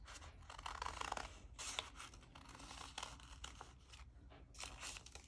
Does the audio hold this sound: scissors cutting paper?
yes